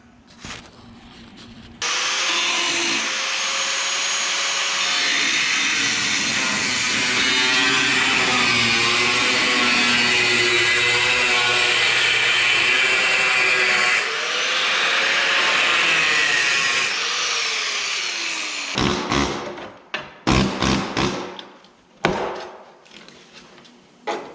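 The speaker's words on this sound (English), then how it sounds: "I'm just going to do a cut around there and drill out these spot welds in the back" A power tool grinds and cuts steadily for a long stretch around a Dodge Ram truck cab corner, then gives way to short bursts of drilling out spot welds and clattering metal work.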